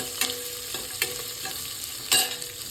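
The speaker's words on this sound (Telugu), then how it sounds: "ఆవాలు, జీలకర్ర, ఉల్లిపాయలు, పచ్చిమిరపకాయ వేసి కలుపుకొని ఉల్లిపాయ ఎర్రగా వేగే వరకు కలుపుకోవాలి." Onions, mustard seeds, cumin and green chilies frying in oil for a ridge gourd and black-eyed pea curry, with steady sizzling and several distinct scraping stirs of a spoon against the pan, close and clear with no talk.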